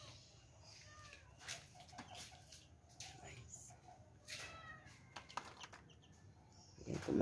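Pet chickens in a backyard flock cluck softly and intermittently, mixed with other bird chatter and faint voices nearby, a low steady background running underneath.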